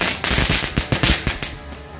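Rapid crackling bursts from a small firecracker, a dozen or so sharp pops in quick irregular succession, close and loud, fading out at the end.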